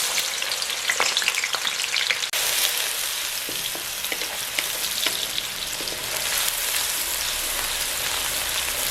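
Onions sizzle in hot oil and ghee in a kadai for a dhaba-style chana dal, a loud, steady frying hiss with scattered pops and crackles throughout, heard alone without talk.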